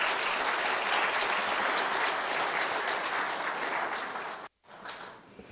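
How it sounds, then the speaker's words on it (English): A conference audience at a symposium applauds panelists in a sustained burst of clapping that fades briefly near the end, then resumes more softly. "I would like you to give a big round of applause to our panelists."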